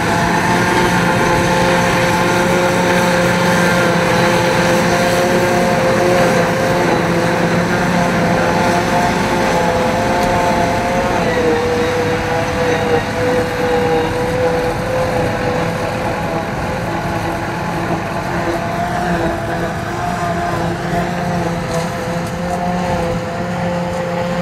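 A tractor-drawn trailed forage chopper runs in a silage field, making a loud, continuous, steady engine and machinery roar with a constant hum that lasts throughout, with no talk.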